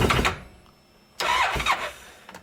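Massimo MSU 800 side-by-side engine cranking with cylinders locking up, two rough bursts of harsh mechanical noise separated by a quiet gap, loud and close with no voices.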